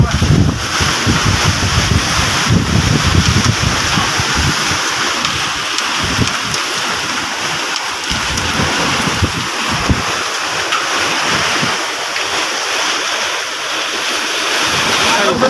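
Strong storm wind during a sudden windstorm roars and buffets continuously at close range, loud broadband rushing with gusty low-frequency microphone rumble, while people talk intermittently underneath.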